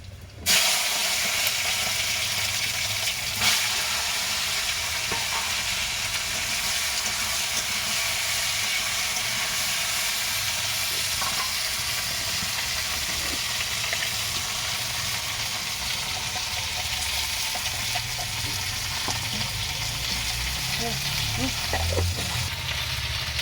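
Fried vegetables and garden tomatoes going into a pan for a rohu fish curry with potato and okra, giving a continuous loud sizzle and hiss throughout, with faint clinks of stirring.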